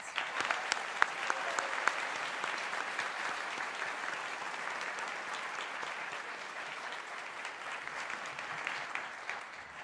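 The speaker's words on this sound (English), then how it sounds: "Please join me once again in congratulating all of our graduates with your applause." Sustained applause from a large crowd at a university dentistry graduation ceremony, a dense steady patter of many hands clapping that continues without letup, heard from some distance.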